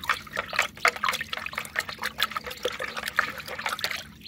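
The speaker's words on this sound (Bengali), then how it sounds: "2 লিটার জলের মধ্যে আমি 1 চামচ সাব ফাঙ্গিসাইড দিয়েছি এবং এটা নাড়িয়ে দিচ্ছি" Fungicide being stirred into two litres of water in a bucket for a rooftop garden bay leaf plant: continuous liquid sloshing and trickling with irregular splashy swirls, close and moderately loud, no talking.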